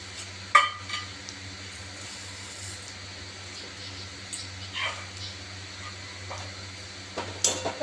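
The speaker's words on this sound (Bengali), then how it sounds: "আবারও এটা মশলার সঙ্গে মিশিয়ে নিচ্ছি।" Chicken mince is stirred with spices, salt and sugar in a frying pan as a filling for keema paratha: a low, quiet sizzle with occasional spatula scrapes and pan clinks.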